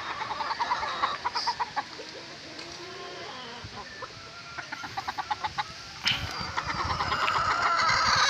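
Chickens and a rooster at a farm cluck and call in repeated bursts, some near and loud, while a brief engine-like rumble rises partway through.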